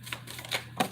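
Tarot cards are shuffled by hand in short, dry riffling bursts. Several quick flutters come close together, with a louder pair near the end, and no voices are heard.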